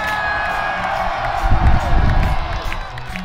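A huge Download Festival crowd at Castle Donington cheers and whoops during a concert, a broad roar of voices that swells midway with scattered shouts and claps.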